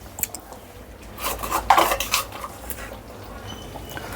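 Potato curry for poori being stirred in a metal pan, a few scraping clinks of a spoon against the pan clustered in the middle, fairly close, with low background hum and no talking.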